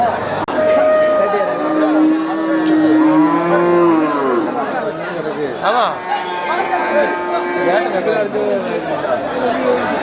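Cattle low in drawn-out moos at the busy Melapalayam cattle market. Several calls overlap and carry clearly over a constant murmur of crowd chatter and talking voices.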